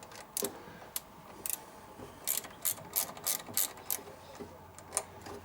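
Close, crisp clicking of a ratchet loosening three 10 mm nuts on the thermostat housing of a 1985 Ferrari Mondial QV, in short irregular bursts of ticks with quiet gaps between them.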